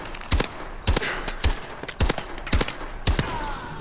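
An XMG firing in the video game Call of Duty Advanced Warfare: six evenly spaced heavy shots, each about half a second apart, each a sharp crack with a ringing tail over low game ambience, and no talking.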